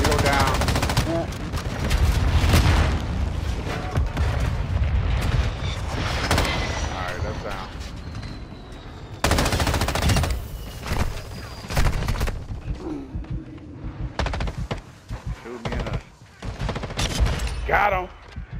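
Heavy gunfire in Call of Duty Modern Warfare II, sustained loud automatic bursts and booms with a brief lull, then renewed shooting, while players talk over it.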